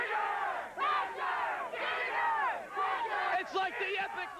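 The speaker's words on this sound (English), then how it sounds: "This crowd is nearly as loud as the monsters themselves" A sellout crowd at a USHRA Monster Wars monster truck event in Louisville roars and cheers in loud, sustained waves of whoops and shouts filling the arena.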